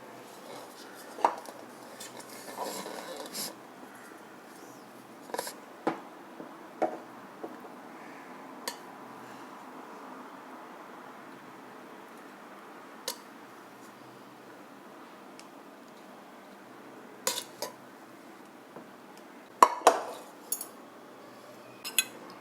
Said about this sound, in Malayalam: ഇനി ബാക്കി കുറച്ച് ചോറിട്ട് കൊടുക്കാം.